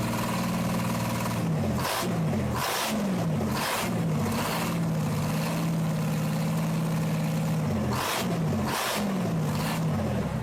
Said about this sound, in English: The result is a fully refreshed Detroit Diesel 6-71 Marine engine